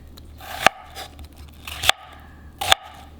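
Green beans being cut into strips with a knife on a board, three sharp crisp cuts spaced roughly a second apart, close and fairly quiet, with no talking.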